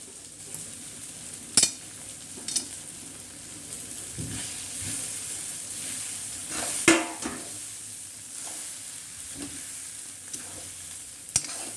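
Poha being stirred in a pan, with soft scraping and faint sizzling throughout and a few sharper clicks of a spoon against the pan, close and fairly quiet.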